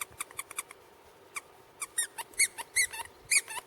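A squeaky dog toy squeaks in irregular bursts, a few quick light chirps at first, then louder, sharper squeezes coming faster toward the end, close by with no talking.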